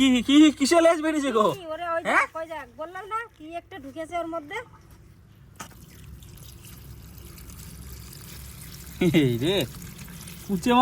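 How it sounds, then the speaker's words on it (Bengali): Water poured out of a bucket beside a pond: a steady splashing pour in the middle, with people talking before and after it. "বালতি নিয়ে যাই জলটাকে ফেলি"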